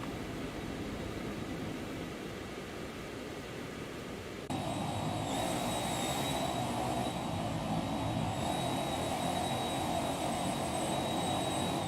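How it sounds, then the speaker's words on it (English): Exterior noise of a Phenom 300 jet's engines in X-Plane 12 flight: a loud, steady roar with a high whine that jumps louder partway through and holds, with no talk. "Very loud on the outside this plane."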